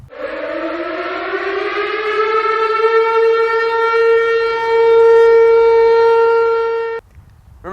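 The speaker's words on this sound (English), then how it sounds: "Remember these tips from the Michigan State Police whenever you hear the siren" A civil defense tornado warning siren in Michigan rises to a loud, sustained wailing tone, holds steady for several seconds, then cuts off abruptly near the end.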